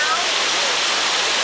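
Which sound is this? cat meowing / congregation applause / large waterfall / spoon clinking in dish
large waterfall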